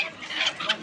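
Chickens cluck briefly at a Bangladeshi desi chicken market, a few short calls close by amid a busy, noisy bazaar.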